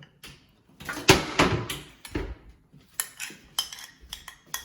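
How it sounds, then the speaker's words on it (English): A utensil clinks and scrapes against a pan while butter is mixed for banana walnut bread, giving irregular close knocks and clatters with short pauses between them and no talking. "the next step is mixing up the butter, and you put it in the pan there"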